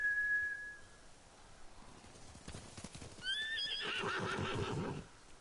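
A horse in the Ghost of Tsushima video game answers a call: a faint whistle first, then rhythmic hoofbeats approaching and a loud, wavering whinny up close, no talk.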